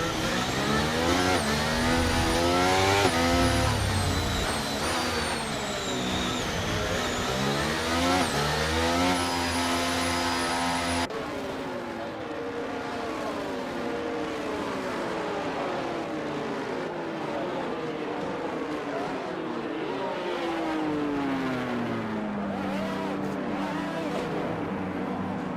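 F1 race cars lined up on the grid in the F1 23 video game, with high revving engine whines rising and falling, layered and loud, then shifting to a lower, steadier engine drone.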